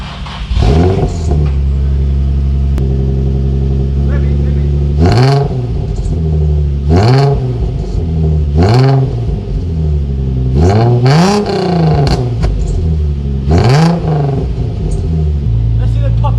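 A Nissan 350Z with a decat exhaust idles roughly, then revs hard five times in separate bursts, each climbing and falling, with crackling exhaust between revs, close and loud.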